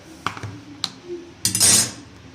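A cake pan lifted out of a steaming pot after the gas is turned off, giving a few light metallic clinks and knocks followed by a louder scraping clatter as the chocolate cake pan comes free.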